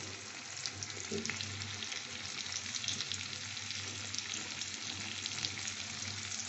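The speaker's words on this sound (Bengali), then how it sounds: "এইটার মধ্যে আমি এখন পেঁয়াজের কুচুগুলো দিয়ে দেবো" Chopped onions hit hot oil in a pan while cooking an egg and cauliflower curry, giving a steady, even sizzle and crackle that continues alone throughout at moderate volume.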